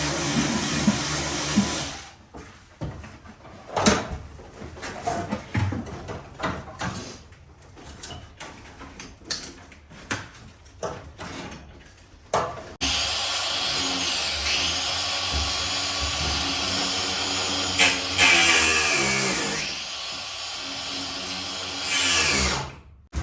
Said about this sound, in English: we're gonna cut that with just an angle grinder now